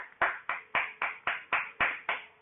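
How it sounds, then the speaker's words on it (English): One person's hands clap eight times in a steady, even rhythm, close and crisp, with short silences between the claps. "I'm gonna give you a hand applause right here."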